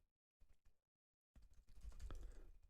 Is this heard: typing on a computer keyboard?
yes